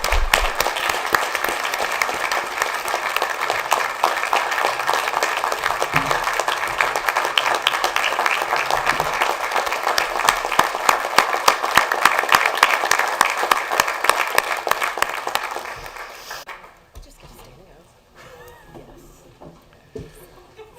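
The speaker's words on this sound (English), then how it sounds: "Let's all give them a round of applause for their help this year." Sustained applause fills the House chamber at a legislative session, a dense steady clatter of many hands that holds for about sixteen seconds before dropping off abruptly to quiet room tone.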